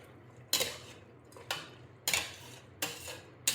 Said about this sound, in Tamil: இப்போ நல்லா கலந்து விட்டுடலாம்.